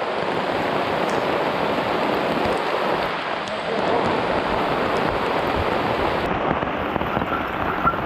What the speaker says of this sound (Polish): Czas napełnić butelkę wodą z deszczówki.